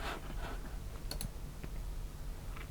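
A computer mouse clicks twice in quick succession, sharp and close, against a quiet room hum, followed by a few fainter ticks.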